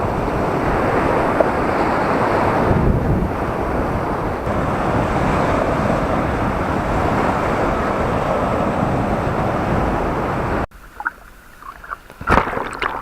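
Mediterranean sea waves washing onto the Dalyan spit beach in Turkey, a steady loud roar of surf with wind noise that drops away abruptly near the end, leaving quieter water sounds.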